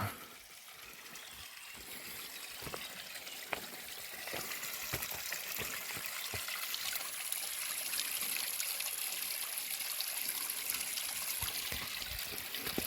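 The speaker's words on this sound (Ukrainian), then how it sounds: "Ось і саме джерело." Water trickles steadily from a small spring at a Saint Anne shrine, a continuous soft splashing and dribbling heard close by with no voices over it.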